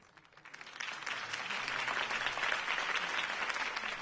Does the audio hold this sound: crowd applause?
yes